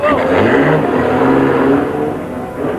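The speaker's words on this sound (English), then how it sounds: "Leading privateers Bruce Terry and Alan Castley in their Toyota Corolla." A Toyota Corolla rally car at a 1987 international rally drives by with a loud, sustained engine drone and rushing road noise, fairly close, with a commentator's voice over it.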